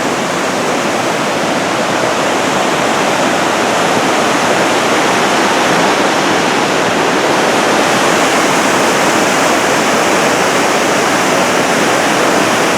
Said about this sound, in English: Laughing Water Creek looks like a river this year.